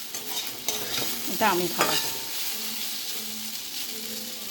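Pumpkin pieces fry in a pan with mustard seeds and a dried chilli for a Bengali lunch, a steady close sizzle broken by a few scraping stirs, with a brief spoken remark near the end.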